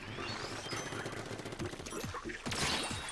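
Enemy snipers fire in the Splatoon 2 video game, dense rapid game shots and splattering effects under background music, faint and continuous, with no voices.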